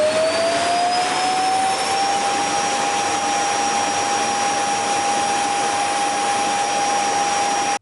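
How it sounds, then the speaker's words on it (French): A robot vacuum's base station runs its automatic self-emptying suction, a loud steady whine with a tone that rises at the start and then holds for several seconds, unbroken and with no talk over it. "il retourne de lui-même à sa base et donc l'aspiration se met en marche automatiquement"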